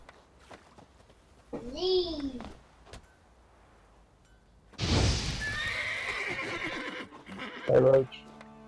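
Roach, the horse in The Witcher 3 video game, gives a loud whinny followed by a long snort and another neigh, with hoof clops between. A voice speaks over part of it.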